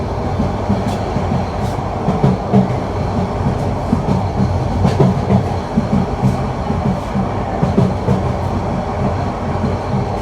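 Cox's Bazar Express intercity train pulling out of Akhaura Junction, a steady close rumble of carriages with rhythmic wheel clatter and occasional clanks running throughout.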